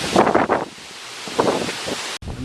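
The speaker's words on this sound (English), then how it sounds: "these gusts are just like what I remember with Sandy" Strong wind gusts from Tropical Storm Isaias on Long Island roar and buffet the microphone in loud, uneven bursts, with a brief dropout near the end.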